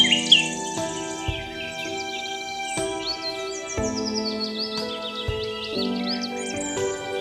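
Bright chirping bird song in a forest setting, with quick rising and falling tweets repeating over several seconds alongside other steady calls, moderately close and with no voices.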